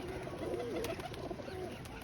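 A flock of pigeons for sale in Sarai Alamgir, Jhelum, Pakistan, with low rolling coos repeating closely over a steady, faint ambient hiss, no voices.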